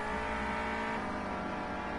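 A Renault Clio Cup race car engine revs hard on track at Donington's Dearsley heading for the home straight, a loud continuous roar with a rising, straining note and no voices over it.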